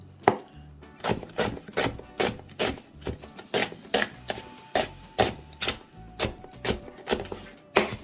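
A knife chops onion on a cutting board in a steady run of sharp, evenly spaced close-up strokes, with no talk over them.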